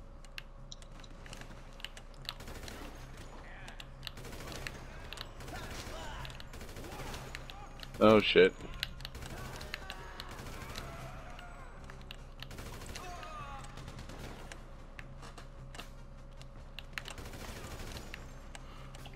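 Rapid automatic gunfire from an AK-47 with a drum magazine in Grand Theft Auto, a short loud burst cutting through ongoing game sounds and clicking, with a voice speaking nearby.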